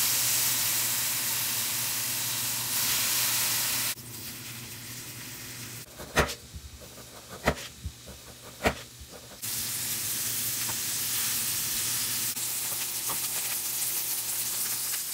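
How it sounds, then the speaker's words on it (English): Strips of bacon frying in a pan, a steady loud sizzle and hiss that drops away briefly while a few knocks and clatters sound, then comes back at full strength. "I'm going to cook these strips of bacon"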